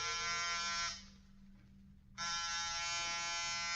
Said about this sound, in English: Get off the buzzer.